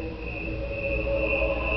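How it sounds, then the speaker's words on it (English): Crickets chirping in a slowed-down recording, heard as a steady, sustained tone with no pauses, close and moderately loud, with no other sounds. "One track is crickets at regular speed. One is slowed down."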